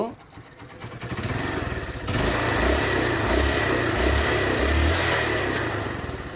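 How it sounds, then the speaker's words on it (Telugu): Hero Karizma motorcycle engine starts up and runs steadily with a throbbing low beat, close and loud, after a brief quieter start. "ఇంజిన్ బీటింగ్ అయితే చెక్ చేసిన భయ్యా"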